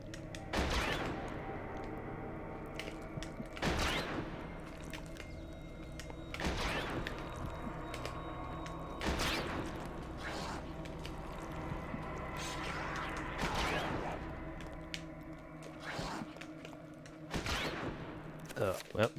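Gunshots from a firearm in the video game Eternal Darkness: Sanity's Requiem ring out as sharp, loud cracks every few seconds, about six in total, over a steady low in-game background hum.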